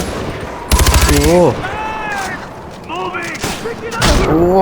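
Gunfire in Far Cry 4: Valley of the Yetis, loud bursts of automatic shots near the start, then quieter shots, set among game sounds and brief voice-like tones.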